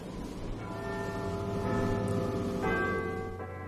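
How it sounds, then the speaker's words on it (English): A doorbell rings out the Big Ben chime melody, with sustained bell-like tones overlapping one after another at close range, alone without talk. "Ah, the chimes of Big Ben."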